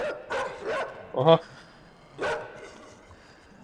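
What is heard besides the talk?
dogs barking in a video game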